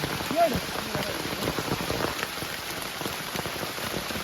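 Heavy rain pours steadily on the ground and water during crab catching in the season's first rain, a dense continuous hiss with scattered drop impacts and faint voices in the background.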